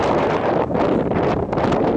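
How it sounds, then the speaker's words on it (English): Strong wind buffets the microphone on a mountain peak along a hiking trail in New Mexico's Sandia Mountains, a loud, continuous roaring rush that surges and dips briefly, with no talking. "It's really windy"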